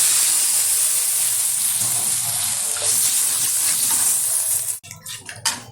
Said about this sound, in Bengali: জল ঢেলে দিচ্ছি